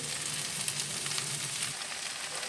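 Okra roasts in an open pan, a dense, even sizzle close by that crackles steadily throughout without any voices.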